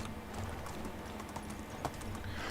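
Horse hooves clip-clop steadily in the medieval survival game Medieval Dynasty, a soft, quick patter set against a dense, noisy ambient backdrop.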